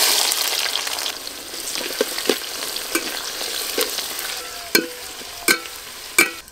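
Chopped onion goes into plenty of hot oil with dried red chillies, bay leaves, whole garam masala and sugar for a mutton curry, hissing steadily as a spoon stirs, with sharp clinks against the pan.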